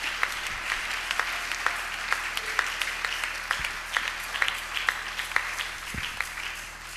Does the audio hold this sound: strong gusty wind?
no